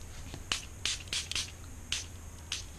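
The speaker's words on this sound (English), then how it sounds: "And then I'm going to spray it with water." A spray bottle spritzes water onto an Aquapastels painting in about six short, sharp hissing bursts at an irregular pace, close by and otherwise quiet.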